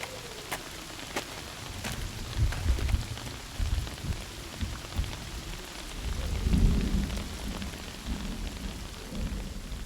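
Evening rain in the video game Love and Deepspace, a steady hiss of rainfall with soft low thunder rumbles rolling through and a few sharp crackling strikes early on, at moderate volume.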